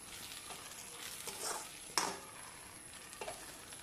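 Cabbage masala is stirred in a pan, giving a soft sizzle with a few scraping sweeps and one sharper clink of the utensil, quiet and close.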